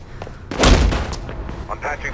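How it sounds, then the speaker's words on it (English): A loud boom of gunfire in the video game Mirror's Edge bursts out with a rumbling low end, followed by scattered softer shots and voices talking under the noise. "I can hear gunshots"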